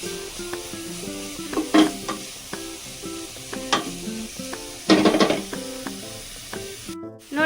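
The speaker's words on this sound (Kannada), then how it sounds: "ಚೆನ್ನಾಗಿ ಫ್ರೈ ಮಾಡ್ಕೋಬೇಕು." Grated carrot frying in a pan for halwa, a constant sizzle broken by regular ladle scrapes and knocks against the pan, with a few louder clattering bursts, up close and without speech.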